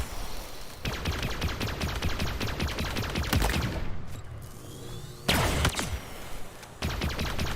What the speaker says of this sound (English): I love the sound of the plasma pistol.